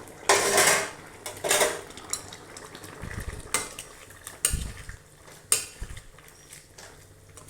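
A spoon scrapes and clanks against a metal pot of chayote curry in irregular strokes, close up, with a soft sizzle of food cooking underneath.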